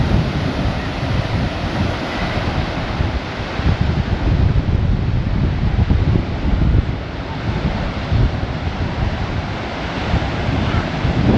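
Waves break and surge continuously on the shore at Harlyn Bay Beach, Cornwall, mixed with heavy wind rumble buffeting the microphone.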